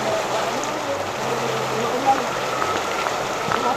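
A downpour hisses steadily in the background, with low murmuring voices and soft tonal sounds beneath the rain.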